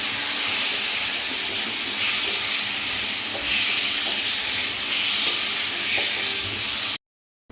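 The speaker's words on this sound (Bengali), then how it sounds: "এবার আমি আলুটা দিয়ে দেবো।" Chopped potatoes sizzle loudly in a pan of browned spice masala for aloo dum, a steady bright hiss with faint scraping of stirring, close up and continuous until it cuts off near the end.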